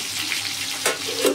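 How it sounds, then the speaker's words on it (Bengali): Fish fillets, just flipped, frying in oil in a covered pan: a steady close sizzling hiss with a couple of brief louder crackling bursts, no voices. "আমি আরেক পাশ উল্টে দিলাম মাছগুলো ভাজা হওয়ার জন্যে"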